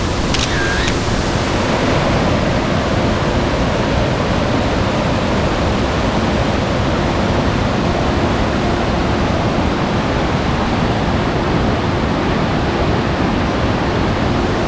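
The Salto São Pedro waterfall in Faxinal, Paraná, heard from its side, pours a constant, loud, broadband roar with no breaks, like heavy rushing water close by.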